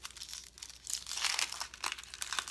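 Dry crinkling and tearing sounds come from the papery skin being peeled off an onion-like vegetable with the root end still on. The rustle is close and continuous with brief louder crackles, in a kitchen with no speech.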